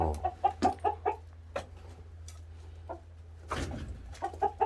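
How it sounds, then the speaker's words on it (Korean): Several chickens clucking close by at a rural cottage beside railway tracks, a run of short repeated clucks and squawks with brief pauses over a low steady hum. "어우, 닭이 꽤 많다, 야."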